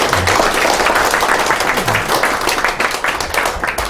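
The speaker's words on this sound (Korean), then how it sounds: "큰 박수로 강의 청해드리겠습니다" Audience at a workplace labor-management training session applauds to welcome a lecturer, loud sustained clapping from many hands across the whole stretch, fading slightly toward the end.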